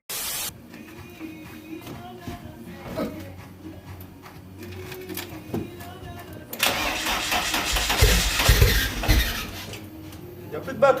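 A car with a dead battery struggles to start, the starter grinding and cranking weakly several times before a longer, louder cranking burst, with people talking in French nearby.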